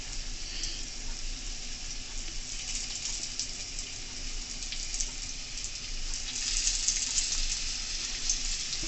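Fish frying in a pot for Jamaican curry fish over medium heat: a continuous hissing sizzle, moderately loud and close, swelling slightly toward the end.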